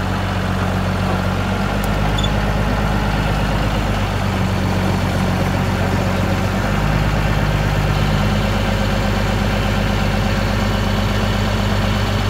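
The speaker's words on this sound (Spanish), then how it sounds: "va a mover el tractor." A heavy tractor engine idles steadily with a low, continuous rumble, close and loud, with no talking.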